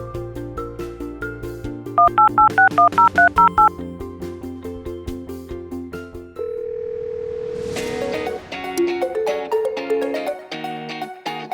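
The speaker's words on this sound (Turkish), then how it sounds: "Tamam babasını arayayım." Telephone dialing tones: a quick run of evenly spaced keypad beeps, then a sustained tone and a further series of short electronic notes, loud and clear with no talk.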